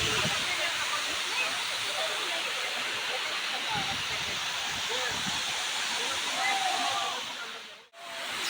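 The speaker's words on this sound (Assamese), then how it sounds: "ইমান ধুনীয়া ঝৰ্ণা আৰু ইয়াৰ পানীখিনি যে বহুত চেঁচা আছিলে" Lumum Waterfall in Arunachal Pradesh roars as a steady, broad rush of falling water, loud and close, cutting out abruptly near the end.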